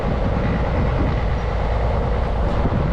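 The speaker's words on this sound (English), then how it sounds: "DMU leaving Bishop Lydiard" A diesel multiple unit pulls slowly away from platform 2 at Bishop Lydiard on the West Somerset Railway, a loud, close, continuous low engine rumble with rolling wheel noise and no voices.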